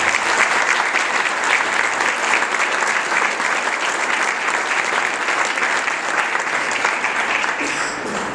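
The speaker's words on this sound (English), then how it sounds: "If you could give them a round of applause." A crowd applauds steadily, a dense wash of clapping that holds at an even level before tapering slightly at the end.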